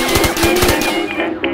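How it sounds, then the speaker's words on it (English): Rapid automatic gunfire in the Roblox video game, a loud burst of about eight quick shots in fast rhythm that then trails off into a fading ring, close and alone without speech. "Did you just activate trigger gunfire on me?"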